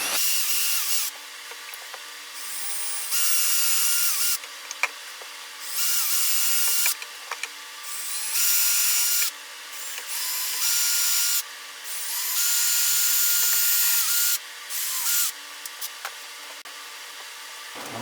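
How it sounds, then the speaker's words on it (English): A power drill drilling pilot holes in cherry wood whirs in repeated bursts of a few seconds each, with brief pauses and small clicks between runs, loud and close. "Pilot holes or pre-drill?"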